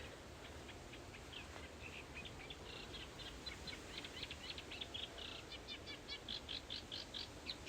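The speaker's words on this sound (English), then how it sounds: "Sounds like some sort of warbler right beside me here." A warbler sings close by in the Welsh countryside of the Dyfi Biosphere, its high, quick chirps coming in repeated bursts that grow busier and more rhythmic toward the end over a soft, quiet background.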